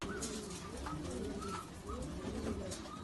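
A racing pigeon with broken legs, back from a 450 km race, gives soft, low repeated coos, faint and close over a quiet background.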